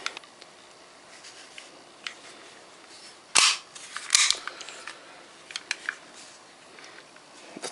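A metal-bodied WE-Tech .45 airsoft pistol gives a couple of sharp mechanical clacks as its slide is locked back, close and fairly loud against a quiet room.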